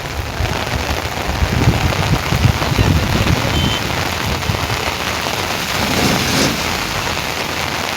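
Heavy first rain of the season drums on surfaces close by, a thick, continuous patter that rises and eases slightly over several seconds.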